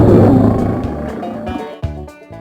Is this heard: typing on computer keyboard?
no